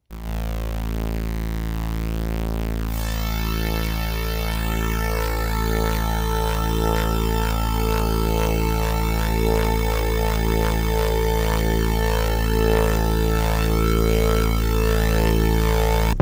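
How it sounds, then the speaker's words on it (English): A Black Corporation XERXES synthesizer oscillator using pulse amplitude modulation, a steady sustained buzzing tone rich in harmonics that brightens after a few seconds and holds at an even, loud level throughout, with no voices. "each oscillator also has PWM, ring mod and PEM, which means pulse amplitude modulation"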